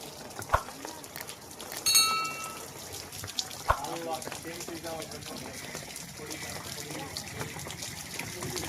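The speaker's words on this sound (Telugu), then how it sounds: "పాలుబాగి తీసుకొని 3 సార్లు నీళ్లు చల్లండి." During a Ganesh puja ritual, water is sprinkled three times in small splashes and trickles, heard under ongoing voices along with a few sharp clinks and a brief ringing metallic tone.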